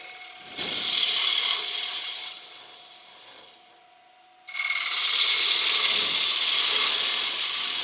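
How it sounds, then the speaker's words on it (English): A wood lathe spins while a bowl gouge cuts wood, a bright, steady shaving hiss that fades briefly and then returns louder and sustained. "Speed the lathe up a little bit."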